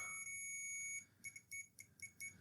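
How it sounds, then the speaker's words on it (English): Multimeter in continuity mode beeping during a video game console repair, a sustained tone followed by a run of short, quick intermittent beeps, faint and close. "in continuity mode, we get a beep from one end to the other."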